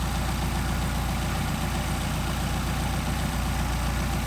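A Mercedes 190SL with Solex carburetors idles while its mixture is being adjusted. The engine makes a steady, loud, close drone with an even low throb that holds unchanged throughout, with no talk.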